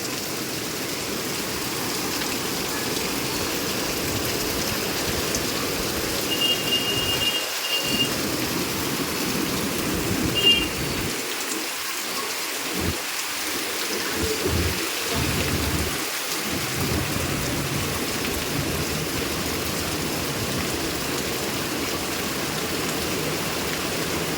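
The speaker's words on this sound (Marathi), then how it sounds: "पाऊस तर थांबायचं नाव नाही घेत आहे" Heavy monsoon rain pours steadily in Mumbai as a dense, constant hiss, with deep rumbles of thunder rolling through the middle and no voices.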